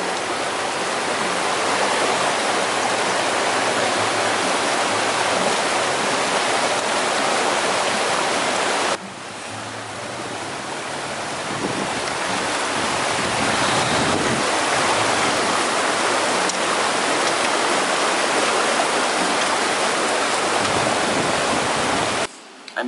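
A fast mountain river crossing on the Pacific Crest Trail rushes and roars close by, a dense unbroken wash of water that dips briefly midway before surging back just as loud.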